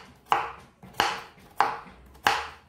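Knife chopping peeled pumpkin into small cubes on a cutting board, four sharp, evenly spaced chops that ring out close and clear with no talk.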